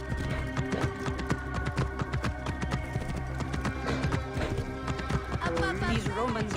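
A horse galloping in Assassin's Creed Origins, its hooves beating a steady, fast clip-clop close by throughout. Game voices talk over the hoofbeats and music plays underneath.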